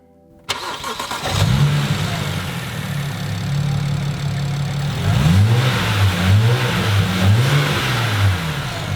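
A turbocharged BMW N54 engine with an aftermarket twin cone intake starts and idles, then revs up repeatedly in rising and falling surges, loud and close, with a throaty intake whoosh and turbo spool.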